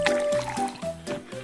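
Water is poured into a bottle in a school classroom, a close gurgling fill with small splashy trickles that runs continuously for a moment.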